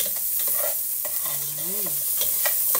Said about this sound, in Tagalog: maglagay po tayo dito ng luya, yung Igisa muna natin ito lahat.